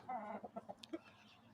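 Small chicks and chickens give a short burst of soft clucks and peeps, close and faint, with no talking.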